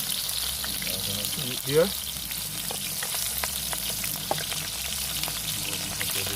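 Banana pieces frying crisp in hot oil on a construction site, a dense close sizzle with bubbling crackles and a brief stirring clatter, while someone speaks briefly.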